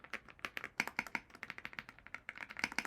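Brisk typing on a small, heavy 65% mechanical keyboard, close and clear, with quick irregular clacks in steady bursts and no talking.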